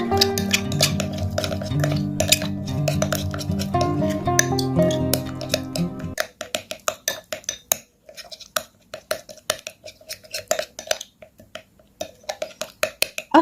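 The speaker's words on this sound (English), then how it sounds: "mix well all the ingredients until they combine and get very well mixed together" Spoon scraping and clinking against a bowl as banana and cornstarch are stirred together for a homemade skin remedy, a steady run of close, sharp taps and scrapes, at first over a backdrop of music, then standing alone.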